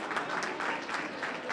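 Audience applause at a community gathering, a short dense burst of many hands clapping, moderately distant and steady, with a hint of murmuring beneath.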